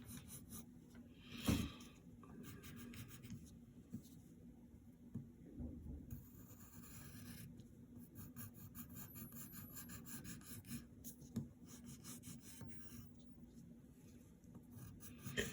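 Pencil drawing boots on paper, a close, steady scratchy rubbing of graphite strokes that runs throughout with brief louder scrapes, no voices.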